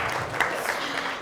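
Audience applause at a keynote interview in Oxford, a short burst of steady clapping from the room, fairly even throughout and cut off abruptly.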